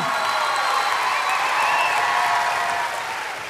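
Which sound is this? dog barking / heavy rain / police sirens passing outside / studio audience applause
studio audience applause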